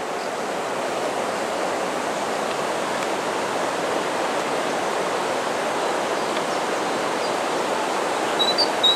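Nysa Kłodzka river running high after storms, a steady, dense rushing of water that stays even throughout, close and fairly loud, with no voices.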